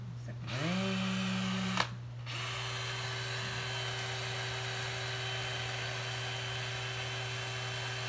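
A power drill spins up with a rising whine, briefly stops, then runs on in a steady, high, close-up electric hum.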